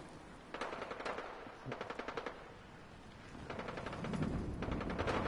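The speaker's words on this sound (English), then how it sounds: "Those guns sound like drums." Gunfire in Fallout 4: rapid bursts of automatic shots crackle in quick, drum-like volleys, pause briefly, then return as a longer, denser stream of fire at moderate distance, with no talk over it.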